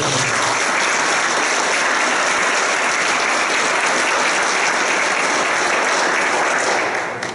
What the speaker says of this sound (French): Peut-être une bonne main d'applaudissements à nos invités.